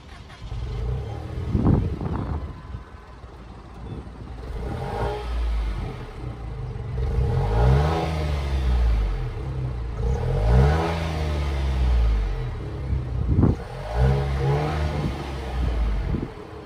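A 2022 Nissan Rogue's 1.5-liter turbocharged three-cylinder engine starts and idles, then revs up and down several times in repeated rising-and-falling sweeps, loud and close.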